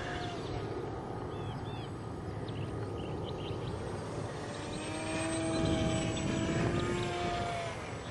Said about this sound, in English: I'm going to bring it around and do a full throttle flyby.